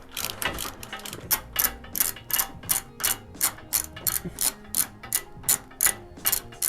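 A ratchet wrench clicks rapidly and evenly while loosening the bolts on a Toyota 4Runner bumper bar, with loud, close, regular bursts of ratcheting repeating throughout.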